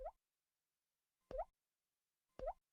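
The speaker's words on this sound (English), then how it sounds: "Water is dripping from the faucet." Water drips from a faucet, three single plopping drops about a second apart, clear and isolated against near silence.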